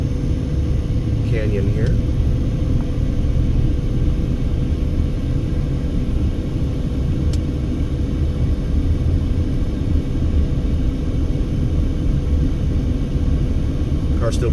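A car climbs a mountain road out of Hoover Dam near Las Vegas in 117-degree heat, its engine and road noise a steady low rumble from inside the cabin, while a voice speaks over it.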